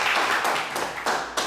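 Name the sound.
audience clapping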